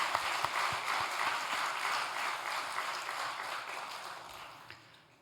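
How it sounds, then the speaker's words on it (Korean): Church congregation applauding during a Sunday worship service, continuous clapping from many people that gradually fades toward the end. "다시 한번 감사합니다 하고 박수 한번 더 하겠습니다"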